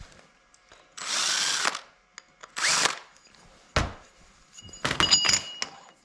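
A drill boring a missed hole in a lathe indexing plate, several short whirring bursts of about a second each separated by quiet pauses, with light clinks of metal between them.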